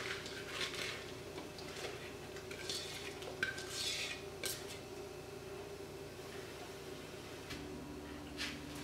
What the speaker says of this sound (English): And into the pot they go. So I'll place them in.